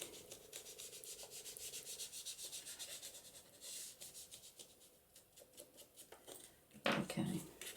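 Ink is rubbed onto a paper journal cover in steady, rhythmic scuffing strokes, close up, with a louder scrape near the end.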